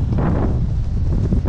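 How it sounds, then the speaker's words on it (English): Wind buffeting a microphone on a fluke fishing charter boat off Block Island, a steady, loud low rumble of gusts that lasts the whole moment, no speech. "Hello, wind."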